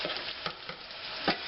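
Garlic sizzles in hot oil in a stir fry, a steady close frying hiss with occasional stirring scrapes.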